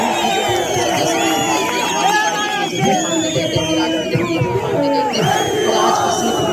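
Large crowd at a political rally in Jammu and Kashmir, dense and loud with many voices shouting and chanting together, near and continuous with no pauses.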